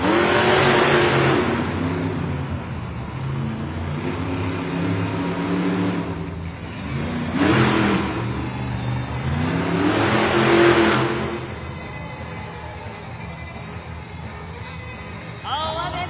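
Monster truck engines roar and rev during a timed race run in an arena, with several rising surges of acceleration over a constant loud engine drone and crowd noise.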